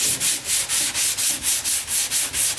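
A sanding block worked by hand along a parting line in quick back-and-forth strokes, about ten even rasping passes in a steady rhythm, close and alone.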